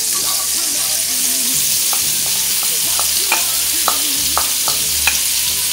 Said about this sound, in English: we're just going to saute this until the onion is soft.